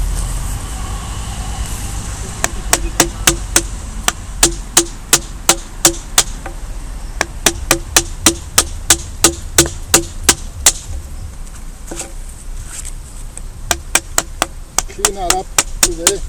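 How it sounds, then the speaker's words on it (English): Sharp chisel blows chop into a wooden block for a traditional strainer post, a long run of evenly spaced knocks in steady rhythm with short pauses, close and loud over faint outdoor background noise. "but I like to do it with a chisel."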